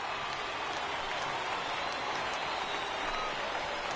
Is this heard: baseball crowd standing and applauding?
yes